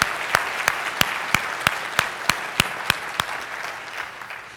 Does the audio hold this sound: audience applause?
yes